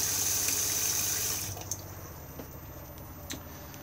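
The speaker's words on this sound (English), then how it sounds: "Extremely good water pressure in these vans." Water runs steadily from the tap into a campervan sink inside a Benimar Tessoro 486, a loud continuous rush for about a second and a half before it shuts off, leaving a few faint drips and clinks.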